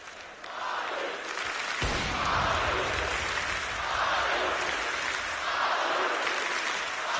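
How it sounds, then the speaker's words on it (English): Arena crowd at a CS:GO grand final between SK and Astralis at BLAST Pro Series Copenhagen 2017, cheering and applauding loudly in a sustained roar that swells in waves, broad and enveloping. "Astralis have come alive in the grand finals, and their crowd is absolutely loving it"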